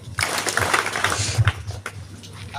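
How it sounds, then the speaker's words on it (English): Applause from a high school talent show audience, a brief burst of clapping mixed with crowd noise and some talk, close and moderately loud. "A clap for him."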